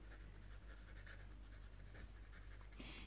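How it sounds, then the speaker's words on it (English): Marker or chalk writing on a board gives a faint, continuous scratchy stroking with small rhythmic pulses, close and quiet against a low background hum, with a slightly sharper stroke near the end. "I'm going to write it here."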